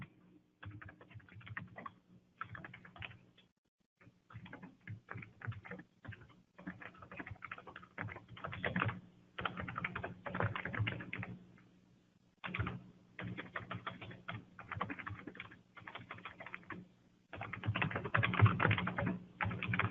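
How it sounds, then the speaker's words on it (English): Keys clatter on a computer keyboard while a chat message is typed in Microsoft Teams, quick bursts of clicking separated by short pauses, close and fairly quiet, with no voices. "you can just basically come in here and you can start typing"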